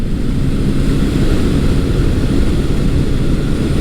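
A cold Honda CB750 motorcycle engine runs rough after sitting unused for a long time, giving a steady, close, low rumble that continues unbroken throughout.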